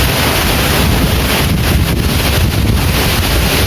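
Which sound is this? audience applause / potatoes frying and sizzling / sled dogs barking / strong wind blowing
strong wind blowing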